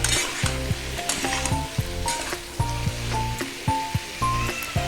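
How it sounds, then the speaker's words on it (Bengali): Potatoes and pointed gourd hit hot oil in a pan and sizzle loudly, with repeated rhythmic scraping and clattering of a spatula stirring close by. "আর এই আলু পটল সবজিগুলোকে আমি দিয়ে দিলাম।"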